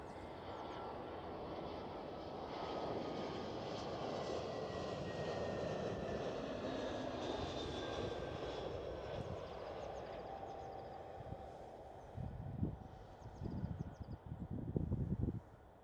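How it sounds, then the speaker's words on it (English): A British Airways airliner passes at Schiphol, a broad roaring jet-engine swell that builds and fades slowly at a distance, with a few bumps and rustles close by near the end. "Next one up is a British Airways."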